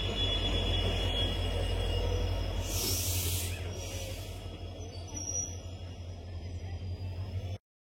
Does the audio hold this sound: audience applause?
no